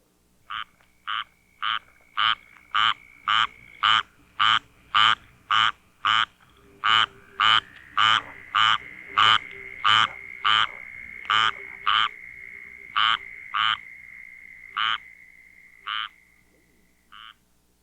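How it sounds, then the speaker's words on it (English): A squirrel tree frog (Hyla squirrella) gives a long series of about twenty evenly spaced, loud raspy calls. A southern toad's steady, fainter trill runs underneath. "The squirrel tree frog, Hyla squirrella, is a small frog common around houses and gardens from southeast Virginia to Florida and west to Texas."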